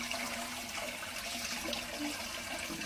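Whey poured off homemade cheese curds makes a continuous, close watery gush and trickle that holds steady for the whole stretch, with no talking.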